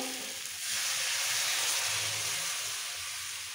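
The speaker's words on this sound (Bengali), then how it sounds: "একটু উষ্ণ গরম জল দিয়ে দিলাম সবজির মধ্যে" Warm water poured into a pan of sautéed mixed vegetables for a curry, setting off a loud, steady sizzle and hiss that swells after a brief pause and holds close throughout with no speech.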